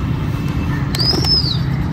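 A pet pigeon's wings flap in a short close flurry, with a faint chirpy whistle rising over a steady low background hum.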